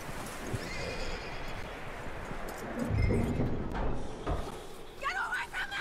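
Horse neighing and hooves clip-clopping in the Western video game Red Dead Redemption 2, heard under ambient game sound, with a louder burst of hoofbeats midway and a whinny near the end.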